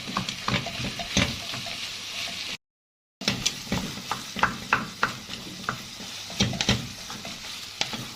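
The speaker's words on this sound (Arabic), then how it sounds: "هنقلب بقى اللحمة بتاعتنا كده اهو" Minced meat fries and is stirred in a pan, with a steady close sizzle broken by repeated scraping strokes of a utensil and one brief silent gap.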